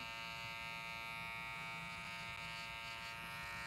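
An electric hair trimmer buzzes during a boy's haircut, a steady, close, unbroken whine that holds at one pitch for the whole stretch.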